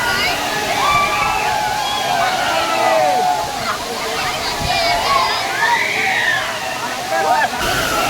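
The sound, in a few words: Gandahati waterfalls in Odisha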